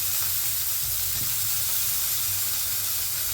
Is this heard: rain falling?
no